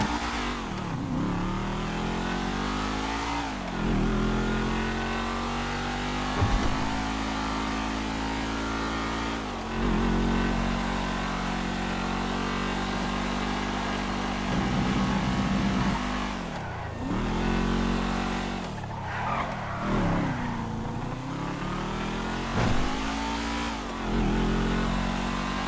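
Expaler muscle coupe in GTA 5 Online, its engine revving and accelerating close up, pitch climbing through gears then dropping at each shift, with repeated throttle lifts and surges over a long drive.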